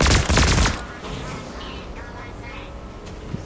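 Gunfire in the video game Fortnite: a loud, dense burst of rapid shots in the first moment, then quieter game noise with faint scattered sounds and some talking.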